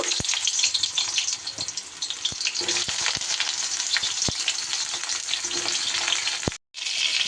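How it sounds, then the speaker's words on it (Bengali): Pointed gourd (potol) pieces fry in hot oil for an aloo-potol dish, giving a loud, continuous close-up sizzle punctuated by sharp clicks of a spatula against the pan, with a brief cut near the end. "তেল গরম হলেই আমি সবার প্রথমে পটলগুলো দিয়ে দেব"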